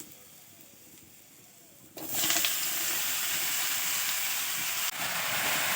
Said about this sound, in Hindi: हम कद्दू को डाल दिए और इसको मिला लेती हूँ।